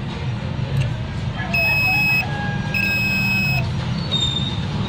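A multimeter's continuity buzzer sounds in two steady, high, clear tones, each lasting about a second, while a TV board is tested. Low hum and a voice sit underneath.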